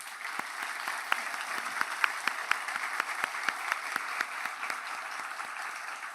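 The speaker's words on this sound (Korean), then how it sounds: "박수로 환영하도록 하겠습니다" A church congregation claps steadily for several seconds, a dense patter of hands with a few sharper, louder claps standing out.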